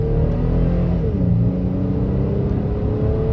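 A Toyota Tacoma TRD Pro pickup on all-terrain tires pulls hard at full throttle. Its engine drones loud and close in a steady, strained rumble, with a brief dip like a gear change partway through.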